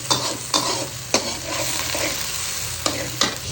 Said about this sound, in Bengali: চিংড়ি মাছটা পেঁয়াজের সাথে দিয়ে দিলাম